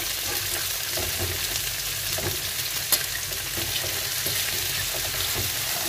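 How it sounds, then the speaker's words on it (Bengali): Onions and chopped garlic fry in a pan with a steady, close sizzle and faint stirring scrapes, running continuously with no talking. "পেঁয়াজগুলি একটু ব্রাউন ব্রাউন করবো"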